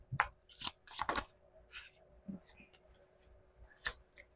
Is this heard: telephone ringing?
no